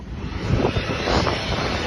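An airplane sits on an airport runway, its engines giving a loud, steady roar close by, with no voices over it.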